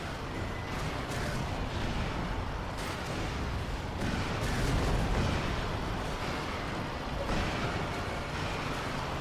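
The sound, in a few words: rockets firing and exploding in a video game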